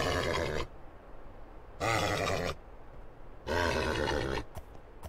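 A Minecraft horse in GregTech New Horizons gives three loud, rough neighing bursts while being broken in, each about a second long and separated by quieter pauses.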